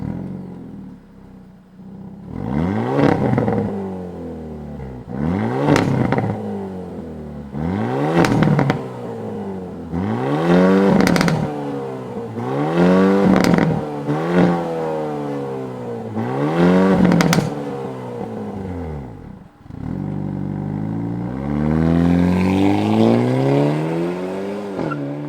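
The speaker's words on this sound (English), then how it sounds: "Let's fire it up and hear what kind of noise we get out of the Elantra N." A 2022 Hyundai Elantra N engine starts and then revs hard in a series of about seven sharp, evenly spaced blips, each rising and falling, with a lower rumble and crackle at the end.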